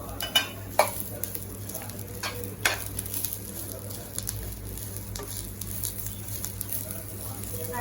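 Onion, curry leaves and spices roast in a pan for a bitter gourd curry, making a steady low sizzle under repeated stirring clatter and utensil taps, with a faint voice in the background.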